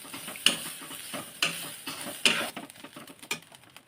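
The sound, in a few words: coconut being roasted in a pan until red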